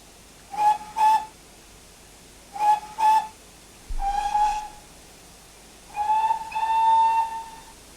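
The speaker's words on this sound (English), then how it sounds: "Control space is the short whistles." A GWR 9400 Pannier Tank steam locomotive in Train Simulator sounds short steam whistle toots in paired bursts, then a longer double blast, loud and close with a faint hiss in the gaps.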